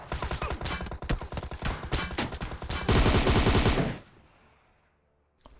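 Loud, rapid Tommy gun bursts in PUBG Mobile, a dense stream of automatic fire lasting about four seconds before cutting off, followed by quiet game ambience with no talking.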